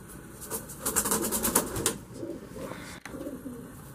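Pigeons cooing in a breeder's loft, a run of soft rhythmic coos rising and falling over the first two seconds, then quieter, with steady background noise throughout and no talk.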